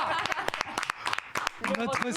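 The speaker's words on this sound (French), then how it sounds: "Le retour de Candy Lola, on l'applaudit" Studio audience applause welcomes a returning guest on a French talk show: uneven, sharp claps ring out in bursts while voices talk and laugh over them.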